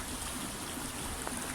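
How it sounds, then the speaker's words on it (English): A small waterfall on the By Brook, a river running high and flooded in freezing weather, flows fast with a steady, dense rushing and splashing that stays constant and close throughout. "Little drop waterfall by all these snowdrops. It's flowing really quite fast."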